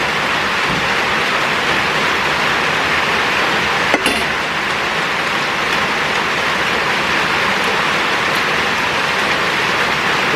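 Heavy rain pours down steadily during a multi-day storm, a dense unbroken roar with one brief knock partway through, loud and close, with no voices.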